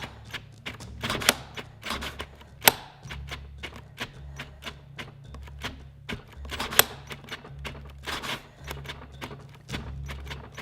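A cordless drill's trigger is clicked over and over to get past its thermal cutoff switch, giving sharp, irregular clicks and short motor bursts in quick succession, fairly close and with no talking.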